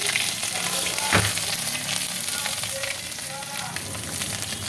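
Ginger paste and turmeric sizzle in hot oil in a pan, a loud, steady frying hiss with a brief stirring scrape near the start.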